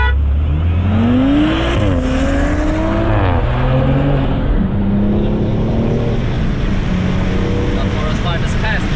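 An Audi RS5, a Mercedes-AMG C63s and a BMW M2 Competition drag racing, with loud sustained engine roar rising through gear changes and a steady high-revving drone, close and continuous throughout.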